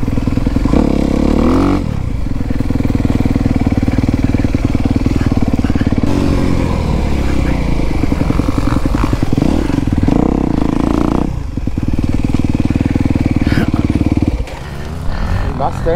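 Kawasaki motorcycle on a dirt track, its engine droning loudly and close with revs rising and falling, a few dips and clattering bumps along the way.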